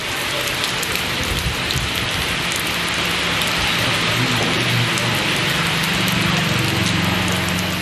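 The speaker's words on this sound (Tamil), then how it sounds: "உள்ளிட்ட இடங்களிலும் கனமழை கொட்டி தீர்த்தது" Heavy rain pours steadily in a dense, unbroken wash across the Thondamuthur area near Coimbatore, Tamil Nadu, with some low rumbling underneath, loud and continuous for the whole stretch.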